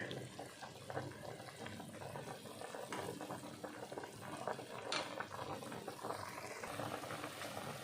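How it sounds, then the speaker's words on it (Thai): A pot of Thai tom saep soup bubbles at a steady rolling boil, close up and fairly quiet. The churning, gurgling liquid fills the whole stretch, with no talking over it. "เดือดอีกรอบหนึ่งแล้วค่ะ"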